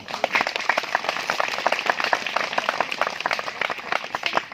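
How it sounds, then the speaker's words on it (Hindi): A crowd of people claps together in dense, continuous applause at a Sarna gathering in Kanke, Arsande. The overlapping claps hold at an even, lively level for the whole stretch. "इकट्ठे एक बार सब बिल्कुल अंदर दिल से जोर से तालियां बजाए"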